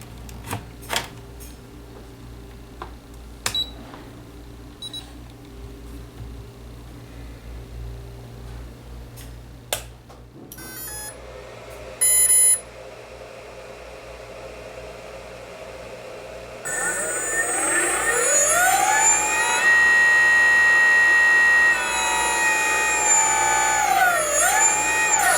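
A mini lathe on a newly installed brushless motor, speed-controlled through a hobby receiver, is heard after a few sharp clicks. The motor spins up with a rising whine, sweeps through several pitches, and keeps up a loud electric hum to the end.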